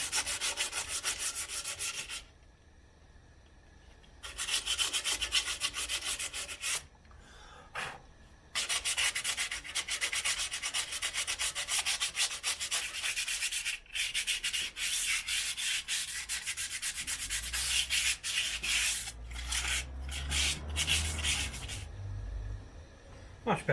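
Wire brush scrubbing a brake drum from a 1950s Standard 10 classic car, a steady harsh abrasive rasp in long bursts with brief pauses, close and fairly loud, with no talk over it.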